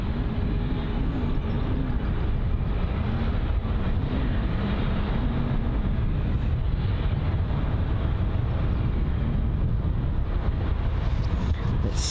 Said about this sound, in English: And the Finnair A350-900 heading out now